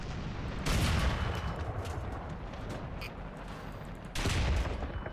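Guns on a Grant / M3 Lee tank in War Thunder fire in loud, sustained roaring bursts, one near the start and another near the end, over constant battle rumble with no talk.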